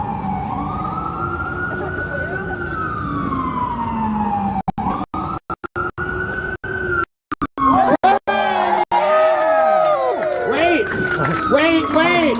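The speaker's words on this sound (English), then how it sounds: "The ambulance." A wailing ambulance siren on a New York City street rises and falls continuously, loud and close, with crackling dropouts and a second overlapping siren tone joining near the end.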